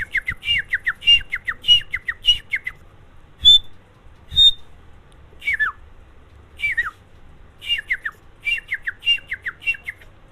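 A man whistles in imitation of a white partridge's call, a string of sharp, high squawking notes in an uneven rhythm with brief gaps, close and clear, with no other voices.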